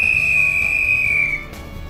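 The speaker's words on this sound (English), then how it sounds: "We just got the whistle from the lockmaster." A lockmaster's whistle at a canal lock gives one long, steady, shrill blast of more than a second, fairly close, over a low background rumble, then stops.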